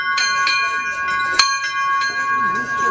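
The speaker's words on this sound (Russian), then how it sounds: "Мы решили все-таки подняться наверх и позвонить в колокола." Church bells ring inside a bell tower, several close, loud clangs with long shimmering tones overlapping, while faint voices murmur in the background.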